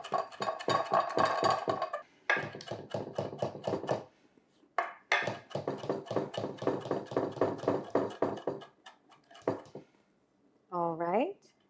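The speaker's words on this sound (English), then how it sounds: "then we will chop this up finely" A knife chops fresh soft-stemmed herbs finely on a cutting board for a stuffed pumpkin recipe, giving rapid, close, rhythmic taps in several bursts separated by brief pauses, with a short voice near the end.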